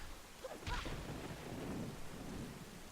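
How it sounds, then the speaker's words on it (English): Rain and thunder in The Legend of Zelda: The Wind Waker HD, a faint, steady downpour hiss with a brief crack of thunder early on and low rumbling beneath. "You'll also note that the raining hasn't stopped."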